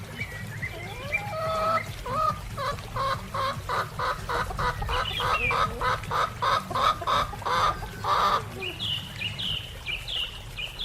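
A chicken clucks repeatedly in a steady run of short, bright calls, fairly close and clear, over a low rumbling background noise.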